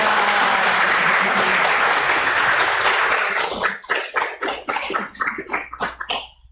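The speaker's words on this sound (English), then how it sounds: "Big welcoming applause to our new friends." Warm welcoming applause from a seated congregation at a Sunday service, dense and steady at first, then breaking into scattered individual claps that thin out toward the end.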